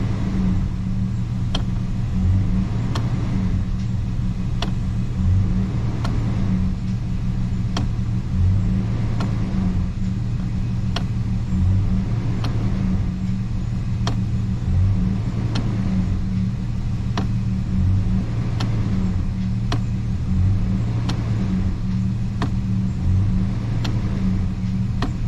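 A Toyota engine idles steadily while the shift lever is moved between neutral and drive, a constant low rumble with a faint regular click and slight dips in engine note every second or so.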